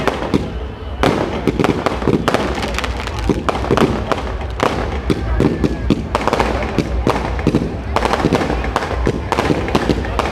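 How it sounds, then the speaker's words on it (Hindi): Fireworks go off during a Dussehra Ravana effigy burning in Sujangarh: loud, dense bangs and cracks fire in rapid, irregular succession across the whole span, with crowd voices faintly underneath. "लगातार आतिशबाजी चल रही है।"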